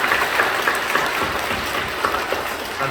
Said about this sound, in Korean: 박수를 건네해 주시기 바랍니다